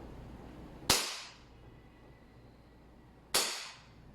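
A gas-powered airsoft BB pistol fires twice at targets, each shot a sharp, loud crack with a short decay, the two spaced about two and a half seconds apart against quiet background.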